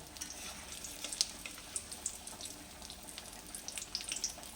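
Egg koftas fry in oil with a soft, steady sizzle sprinkled with small crackling pops, heard fairly quietly and close.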